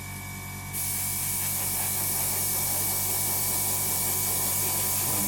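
An airbrush starts spraying paint onto the nose of an Academy F-16I SUFA scale model, a quiet lead-in jumping to a loud, steady, close hiss that holds without a break.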